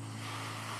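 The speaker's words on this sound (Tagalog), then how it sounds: "Yung tunog ng alon kasabay ng hangin na sariwa na nagmumula sa dagat." Sea waves and wind at a white-sand beach in Siruma, Camarines Sur, heard from a balcony as a brief, continuous wash of surf and breeze with a low steady hum underneath.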